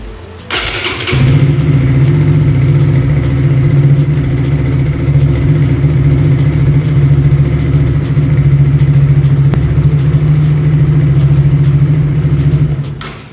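An engine cranks and catches after an oil change at home, then settles into a loud, steady idle that hums close by for about twelve seconds before shutting off.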